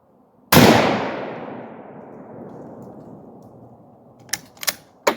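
A single loud gunshot from a Mosin Nagant rifle firing 7.62x54R ammunition cracks sharply and rolls away in a long fading echo outdoors, followed by several quick metallic clicks.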